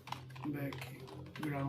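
Quick key presses on a computer keyboard while HTML code is written, soft clicks running beneath a person speaking.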